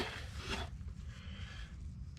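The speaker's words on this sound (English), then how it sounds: "give it a quick wipe down so it looks nice and clean" A cloth rubs briskly across the fender of a 2021 Subaru STI, a short, quiet, close swish of wiping that fades into a soft, steady rubbing.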